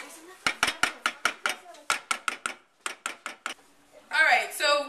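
A utensil clatters against a pot on the stove as play dough ingredients are mixed over medium-high heat: a quick series of sharp, evenly spaced knocks and scrapes up close, then a voice at the end.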